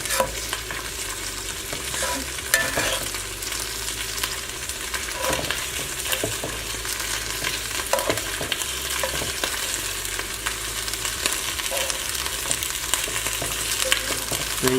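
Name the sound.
chicken being stir-fried and flipped in a pan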